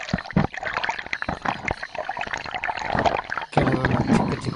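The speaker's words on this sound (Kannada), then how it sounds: "ಈ ಹಳ್ಳದಲ್ಲಿ ನೀರು ಹೋಗ್ತಾನೆ ಉಂಟು" Water rushes along a small hillside stream swollen after rain, a steady close wash of splashing and gurgling with brief gaps and bursts, and no voices.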